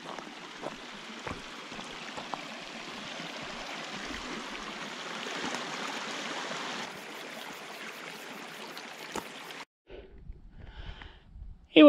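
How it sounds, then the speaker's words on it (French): Continuous gentle rush of flowing water from a small stream by the Vallon fountain, steady for most of the clip before cutting off near the end. "vous voyez ici ce petit ruisseau"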